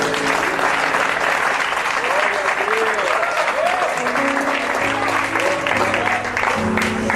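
Church congregation applauding together, a steady dense wash of clapping from a crowd filling the whole stretch, with a few voices faintly underneath.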